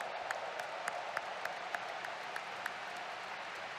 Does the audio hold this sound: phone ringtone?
no